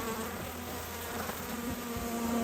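Honeybees buzzing close by during a hive inspection as bees are shaken off a frame, a dense continuous hum with several individual wingbeat tones rising and falling, fairly loud throughout.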